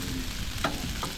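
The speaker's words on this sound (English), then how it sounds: "you can hear that sizzle" Potatoes cooking on an outdoor burner in wind, giving a dense continuous sizzle with a few faint pops over a rumbling gusty background, close and steady, with no talking.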